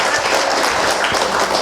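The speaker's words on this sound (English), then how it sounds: "give yourselves a round of applause. Everybody clap it up for yourselves." Applause from a lecture audience, a steady wash of many hands clapping that stays fairly loud and dense throughout without a break.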